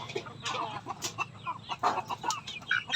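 Backyard chickens cluck and murmur in a steady, close chatter of short overlapping calls, with a few sharper squawks scattered throughout.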